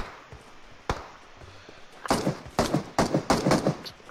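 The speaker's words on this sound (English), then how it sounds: "What are they shooting at for?" Gunfire in the battle royale game PUBG: a single isolated shot first, then a quick string of loud, closely spaced shots in bursts, near and sharp over a quiet background.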